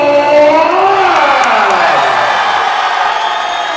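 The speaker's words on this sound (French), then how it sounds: "Merci d'applaudir Thibaut." A crowd at a K1 kickboxing gala roars and applauds for kickboxer Thibault Rey from Bern, a continuous wash of cheering with a raised voice rising over it.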